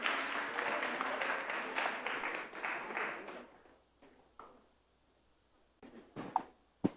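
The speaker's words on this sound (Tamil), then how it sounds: "இன்னொரு முறை கைத்தட்டிடலாம் குழந்தைங்களுக்கு." Audience applause for a children's dance at a Tamil Sangam Chithirai festival in a high school hall, a dense burst of clapping that fades out after about four seconds, followed by a few scattered taps and thumps.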